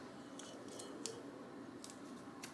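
Scissors snipping through tape on a Dollar Tree DIY pitcher, a few light, quick cuts spread through the clip over a steady low room hum, close and fairly faint.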